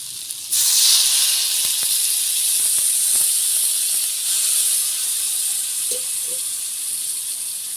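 Water hits a hot pan of fried soybean and potato for posto with a sudden loud hiss that settles into a steady sizzle, with a few small clinks along the way.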